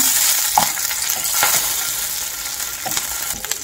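Green chillies roast in ghee in a pan, giving a steady close sizzle and hiss. A few light clinks and stirring scrapes come through, with no voices.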